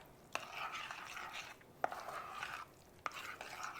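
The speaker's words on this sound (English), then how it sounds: "Stir that up." Sweet potato casserole mixture with milk being stirred in a bowl, with soft repeated scraping strokes punctuated by three sharp knocks of the utensil against the side.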